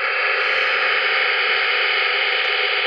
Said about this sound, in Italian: Il fruscio che si ascolta del segnale DRM, il fruscio digitale.